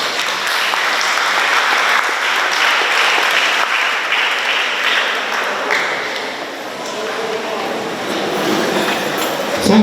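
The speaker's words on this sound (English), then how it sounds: "Let's give him a round of applause." Audience at an education week ceremony applauding a speaker headed to the podium, dense sustained clapping filling the room for the whole stretch.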